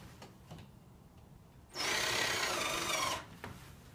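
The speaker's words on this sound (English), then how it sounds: "then screw through the white trim" A screw is driven through white plastic bathroom cladding trim with a power driver: a single burst of close, buzzing whir lasting over a second, framed by faint taps and handling noises in a quiet room.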